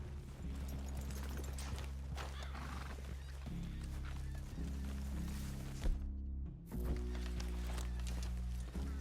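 Horses whinny and their hooves clop over a steady droning game score in Red Dead Redemption 2, the animal sounds faint and mixed under the music with a brief thud near the end.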